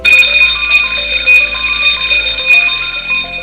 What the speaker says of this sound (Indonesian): Kenali skema bunyi emergensi PT Galenium dengan macam atau jenis bunyi bel sebagai berikut. Keadaan emergensi.